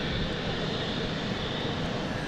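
A small KLM Embraer jet at London City Airport produces a steady, broad engine roar, moderately loud and unbroken, with no talking.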